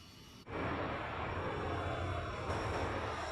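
A MiG-15 jet engine running in Microsoft Flight Simulator, cutting in abruptly and then holding a steady, loud droning whine and roar with no voices.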